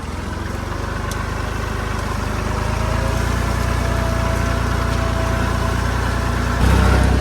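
A tractor engine runs steadily in L3 with 4x4 engaged while ploughing a field, a loud, close, continuous chugging drone that grows slightly louder midway and surges near the end, with no talking.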